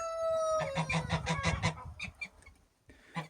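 Geese on a backyard farm make a rapid series of loud, nasal honks and cackles close by, ending in a few scattered calls.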